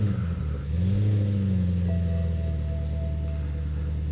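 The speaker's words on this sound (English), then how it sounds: "let's go ahead and try to start this car up and see if it starts any different." A fake BMW M5 being started after repair work: the engine catches and settles into a steady idle rumble, close and fairly loud, with no talk over it.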